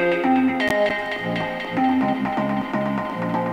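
Processed synth bass build for an electronic buildup, treated with limiting, delay, OTT compression and a duller EQ, giving a steady busy stream of repeated notes at moderate level with a single sharp hit near the start.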